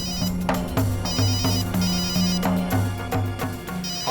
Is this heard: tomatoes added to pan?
no